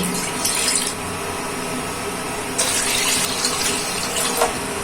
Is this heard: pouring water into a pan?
yes